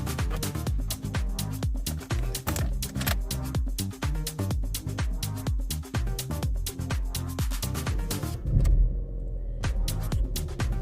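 A 2011 Opel Astra 1.4 estate car with a six-speed gearbox starts up and idles, giving a steady, rhythmic engine chug with a brief louder surge near the end. Nobody speaks.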